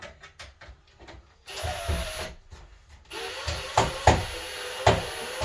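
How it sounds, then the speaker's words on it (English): A power drill drives screws while a Maax shower door is installed, giving short whirring bursts with sharp stops and clicks at close range in a small bathroom. "We can't quite get the drill in there, are we?"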